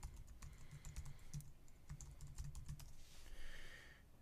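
Fingers type an administrator password on a computer keyboard, a quick run of soft, close key clicks in small clusters with short pauses, fairly quiet, ending in a faint hiss.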